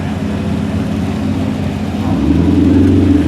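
A Porsche passing nearby with a steady, loud mid-range engine drone that swells slightly as it goes by, with no one talking.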